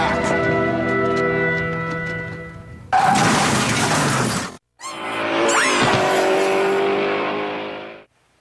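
A car revs hard and screeches through a swerve and avoid driving course, tires squealing and the engine roaring in two loud bursts separated by a brief silence. Talk and music are heard before it.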